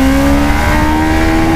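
A Suzuki V-Strom motorcycle engine holds a loud, close, sustained high rev with a steady droning tone, briefly and with no talking.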